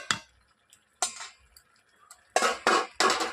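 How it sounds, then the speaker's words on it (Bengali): A masher scrapes and clinks against a pot of spinach and red lentil dal, giving a few scattered knocks at first and then three louder, quick mashing strokes close by. "একটা মেশার নিয়ে আমি ঘেঁটে নেব।"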